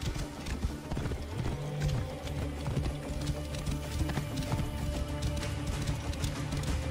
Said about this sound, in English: must be Mered's horse